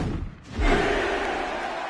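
An arena crowd at a SmackDown wrestling show in the WWE 2K16 video game swells into a steady, loud roar after a brief quieter moment and holds it without any talk.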